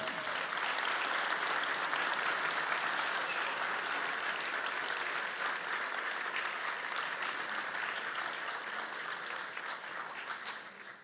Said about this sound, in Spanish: Sea pues nuestro mejor aplauso para el maestro Lorenzo Leguizamón.